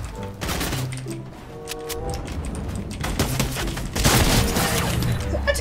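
Rapid video-game gunfire with a few sharper sniper-style cracks, loud and up close, alongside bursts of game music and effects, with a voice talking intermittently.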